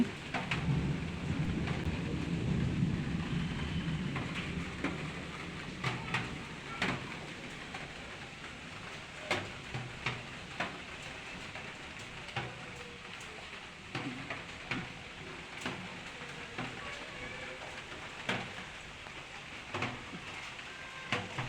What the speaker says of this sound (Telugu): రెయిన్ ఎంతలా పడుతుందంటే అంతలా పడుతుంది